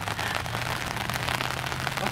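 Pouring rain outdoors patters densely and steadily, a close, crackly wash of drops striking surfaces with a low hum underneath and no talking.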